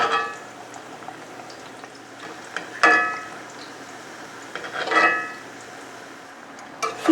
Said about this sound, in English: Carefully lay the pieces of bread into the oil.